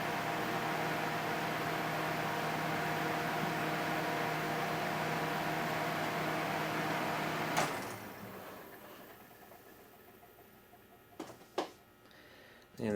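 A 1973 Sears Coldspot dehumidifier's fan runs with a steady, broadband whir and hum, then switches off and winds down over several seconds, fading to near-quiet apart from a few brief knocks and clicks.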